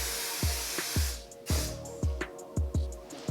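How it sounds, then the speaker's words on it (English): Hard hairspray is sprayed onto hair, a nearby hiss broken by several short spritzes in quick succession. "Make sure to do a finishing touch of the hard hairspray so your hair does not move at all"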